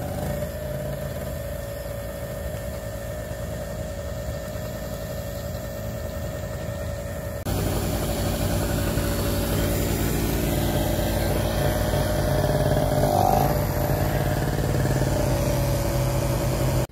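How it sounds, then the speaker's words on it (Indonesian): An ordinary generator engine runs at a steady, droning idle on a garden plot, a loud continuous hum that grows noticeably stronger partway through. "Mesin genset biasa."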